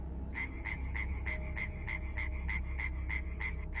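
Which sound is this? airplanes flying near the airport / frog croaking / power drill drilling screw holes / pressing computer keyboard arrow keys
frog croaking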